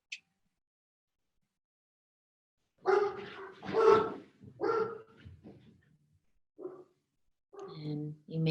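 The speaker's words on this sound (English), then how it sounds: "you may have heard the sounds of my dogs barking" Several dogs bark indoors in uneven bursts, a cluster of loud barks followed by scattered yips and single woofs after a long quiet stretch.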